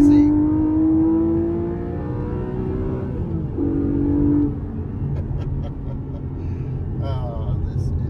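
A Porsche GTS sports car engine drones and shifts pitch as it drives through corners, rising and settling through gears, with a steady low rumble and faint voices.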